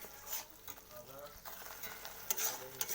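Mustard-poppy spice paste with onion and green chilli being stirred and fried in a pan, for a prawn curry; steady close sizzle with scraping spatula strokes, brief louder clatter near the end, no talking.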